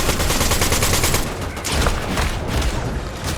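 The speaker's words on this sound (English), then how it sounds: "So this SMG is very accurate at first, and then over time the recoil comes into play and it gets hard to control." Rapid SMG fire in Fortnite, a dense, continuous burst of shots that carries on loud without pause, with game sounds layered underneath and no one talking.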